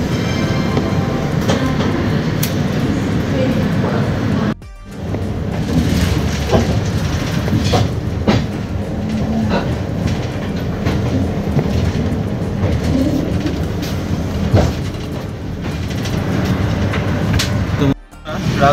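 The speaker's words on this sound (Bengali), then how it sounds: "দেখো এইটা কানপুর নিউ দিল্লি শতাব্দী এক্সপ্রেস দাঁড়িয়ে আছে" Kanpur–New Delhi Shatabdi Express standing at a station, a steady loud rumble of train and platform noise with faint rail clatter and distant voices throughout, briefly dipping twice.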